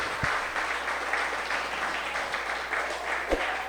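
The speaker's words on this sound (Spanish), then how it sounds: "Dele un fuerte aplauso al Señor." Congregation applause during a church service, an even, sustained wash of clapping throughout, moderately loud, with a couple of faint low thumps.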